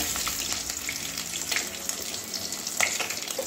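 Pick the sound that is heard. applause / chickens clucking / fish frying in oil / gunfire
fish frying in oil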